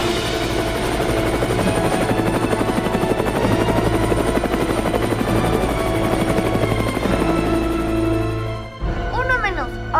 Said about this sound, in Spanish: ¡Será mejor que llamen al helicóptero de rescate de Lego!